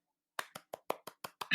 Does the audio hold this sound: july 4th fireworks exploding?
no